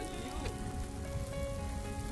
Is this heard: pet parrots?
no